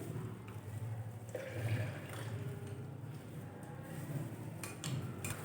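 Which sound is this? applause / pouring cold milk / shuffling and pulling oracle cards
pouring cold milk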